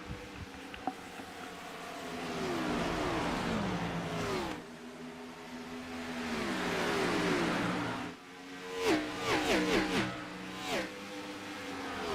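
Race car engines roar past during an ANZCAR Cup race at Dover, a loud continuous engine drone with rising and falling revs and a burst of higher-pitched acceleration near the end.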